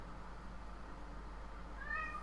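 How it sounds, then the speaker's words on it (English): A cat meows once near the end, a short rising, tonal call over steady low room hum with no talk. "Oh, my cat is just starting up."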